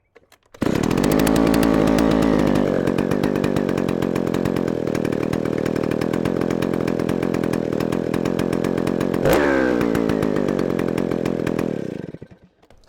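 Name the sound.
rare chainsaw running after restart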